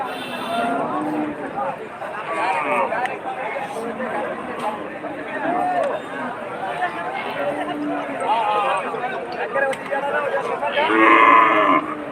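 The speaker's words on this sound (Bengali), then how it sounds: "এই দেখেন দেখেন যে কি বিশাল গরুটা আমার গুঁতো দিতে" Cattle low and moo at a busy livestock market, with several drawn-out calls rising over people talking nearby.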